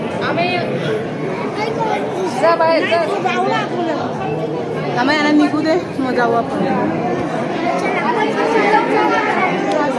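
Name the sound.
crowd chattering at Ellora caves Shiv temple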